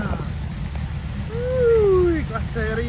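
Heavy rain falls in a constant broadband wash, with a person's voice rising over the downpour partway through.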